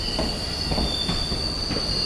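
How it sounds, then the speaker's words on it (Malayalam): A Kanyakumari–Punalur passenger special train runs on rails with loud, steady metallic wheel squeal and faint rhythmic clatter, close by and continuous with no voices. "ഇത് കന്യാകുമാരി പുനലൂർ പാസഞ്ചർ സ്പെഷ്യലാണ്"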